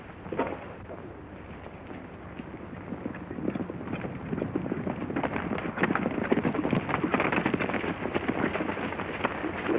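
Horses' hooves clip-clop steadily as riders move along, a dense, continuous patter of many hoofbeats, fairly near, with a muffled old-film quality.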